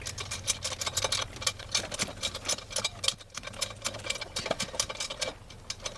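Rapid, steady ratcheting clicks from a wrench tightening a bolt on the timing bracket of a 1996 Ford Ranger go on without pause, up close and moderately loud.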